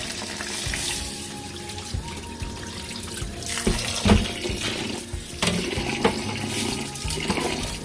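Rice is rinsed in a strainer under running tap water: a steady splashing flow with grains shifting and a few louder sloshes and knocks, close up and without talk.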